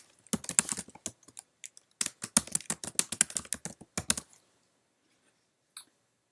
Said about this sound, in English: we're going to type custom dash stroke in the name text box